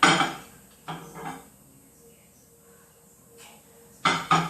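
A dish of pumpkin bread pudding is shaken in a microwave, giving a loud clatter at the start, a couple of softer knocks, then a quiet pause before two more clunks close together at the end.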